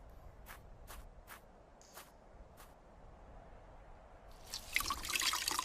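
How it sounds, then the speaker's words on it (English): A wet shirt dripping water in an adventure video game, several distinct drops falling one by one at an uneven pace, followed by a brighter splashing trickle near the end. "The shirt is dripping."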